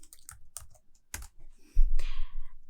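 Quick typing on a computer keyboard, a short run of light clicking keystrokes followed by a heavier thump and a brief rustle, close and fairly quiet.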